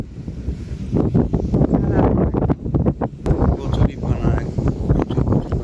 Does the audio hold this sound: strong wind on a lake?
yes